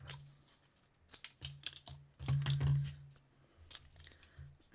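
Scissors snip through paper being trimmed for notebook pockets, a few short close crisp cuts with small rustles between, quiet and unaccompanied by talk.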